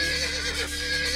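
A low-poly video game horse neighs in a long, loud whinny over a steady game soundscape, with hoof clatter faintly mixed in and no talk.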